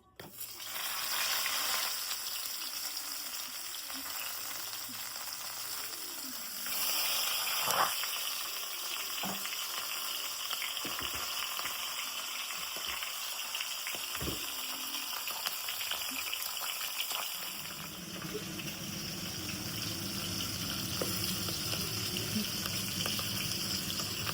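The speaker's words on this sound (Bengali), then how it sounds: "মাছের মাথাটা ভাজছি" Oil sizzles steadily in a pan as a fish head fries, with a bubbling crackle, joined by occasional clinks and stirring knocks, and the sizzle swells toward the end.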